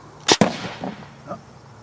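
A gunshot is fired during a slow-motion camera test: two sharp, loud cracks in quick succession, then a brief fading echo and faint background noise.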